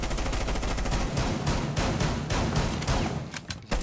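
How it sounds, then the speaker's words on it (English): Gunfire in Rainbow Six Siege as a player shoots through a wall, a dense stretch of rapid shots and impacts that stays loud and continuous throughout, with no speech. "Shoot through wall."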